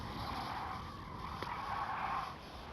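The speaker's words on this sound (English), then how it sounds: "But the car swings, the back end swings out heavily." A race car in a video game skids on ice in a long, steady slide, a continuous whooshing hiss of tires with an engine droning underneath, fairly loud and unbroken.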